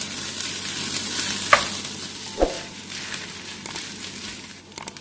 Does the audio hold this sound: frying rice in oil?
yes